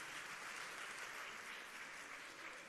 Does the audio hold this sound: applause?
yes